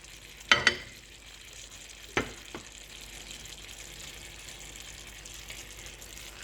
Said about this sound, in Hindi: टमाटर डालकर इसको भूनना है।